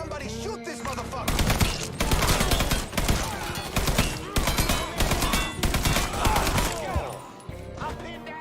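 Rapid bursts of automatic gunfire and loud shots crackle almost nonstop through a shootout in the video game Mafia III, with voices calling out between the volleys.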